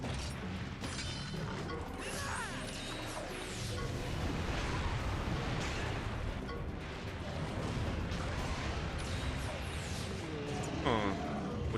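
A dust explosion in the Monster Hunter game: dense, rumbling blasts and crashing impacts over continuous game noise and music, loud and cluttered throughout, with a voice talking faintly in places.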